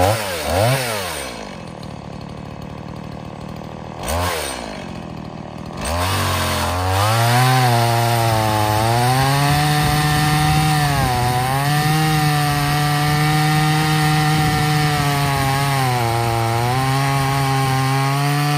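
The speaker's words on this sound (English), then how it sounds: "I'm gonna try to noodle this larger hickory round in half with this MS-180" A Stihl MS 180 C-BE chainsaw cuts through a large hickory round, loud and close. Two short revs give way to a long, steady, laboring engine drone under load, with no talking.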